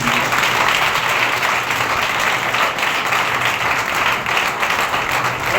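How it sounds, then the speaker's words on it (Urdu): Church congregation at a Sunday service breaks into loud, vigorous applause, a thick continuous clatter of many hands that stays strong and close for several seconds. "آئے اپنے ایمان کے لیے زوردار تالیاں."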